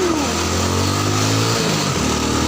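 Honda XRM 125 fi motorcycle with new clutch lining and spark plug, engine revving close and loud, pitch rising and dipping in quick surges over a brief continuous run.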